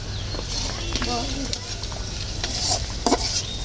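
A grandmother cooking on a stove at home, food sizzling steadily while a utensil stirs and scrapes the pot, close by, with people talking over it.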